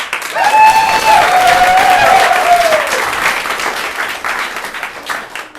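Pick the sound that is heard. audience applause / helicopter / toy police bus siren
audience applause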